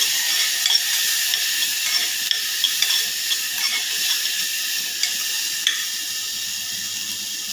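Carrots and potato sautéing in a pan for baby dal khichdi, a steady close sizzle and hiss with light scraping stirs and small ticks throughout, no talk.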